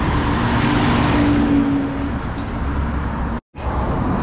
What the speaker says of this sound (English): It's very noisy street here, and it will be very busy after 4 o'clock.